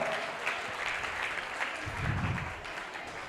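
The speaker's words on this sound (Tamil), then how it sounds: "ஹோலி ஃபேமிலி சர்ச் அவர்களுக்கு நல்ல அழகா பலத்த கைத்தட்டல் கொடுக்கலாமா எல்லாரும்?" An audience claps at a diocesan-level children's catechism arts event held by a church, with dense, steady applause sustained throughout at moderate level.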